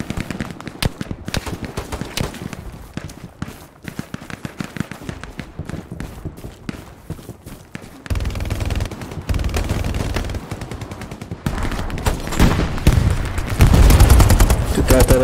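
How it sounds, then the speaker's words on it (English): Machine gun fire in the WWII shooter Hell Let Loose, long rattling automatic bursts, rapid and rhythmic, close and loud, with heavier booming fire building toward the end. "MG gun."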